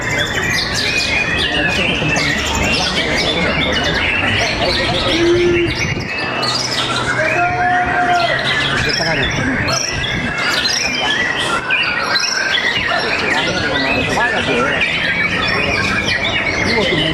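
Murai songbirds singing at a bird contest at an arena in Sentul, Bogor, with dense overlapping chirps, whistles and trills throughout, under constant crowd noise and people talking nearby.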